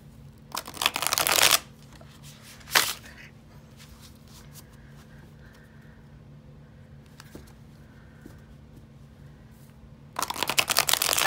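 A Vintage Rider Tarot Deluxe deck is shuffled by hand, two dense riffling bursts near the start with a single snap, a quiet pause, then another rapid riffle at the end, close and crisp.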